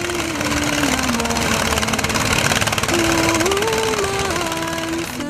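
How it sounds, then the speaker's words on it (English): The small engine of a locally made gold dredging boat on a Ghanaian river chugs with a steady, rapid putter, droning on continuously with slight shifts in pitch. "Manufacturers and users alike call it tu-tu-tu-tu-tu-tu. That's the sound it makes when it's set on water."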